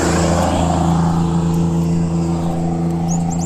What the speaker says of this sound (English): Sorry, loud truck.